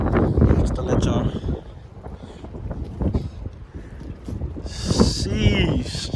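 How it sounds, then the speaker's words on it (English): Heavy wind buffets the microphone in low, roaring gusts, with a voice talking intermittently underneath. "it's pretty windy out here."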